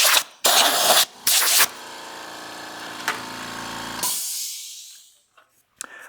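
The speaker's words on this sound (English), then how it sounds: "just blow that off with the air compressor" Several loud hissing bursts of compressed air from an air compressor blasting in short spurts, blowing sanding dust off a turned wooden pot, followed by a fading mechanical hum as it trails off.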